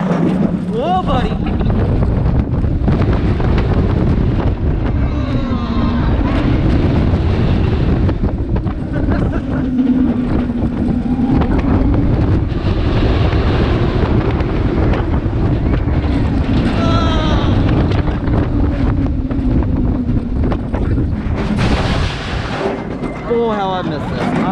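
Riding the Mako roller coaster at SeaWorld Orlando, with loud, constant wind roar buffeting the microphone and the rumble of the ride throughout, and a rider's voice breaking through.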